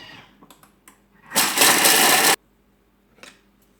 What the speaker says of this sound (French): Alors, on va mixer tout ça.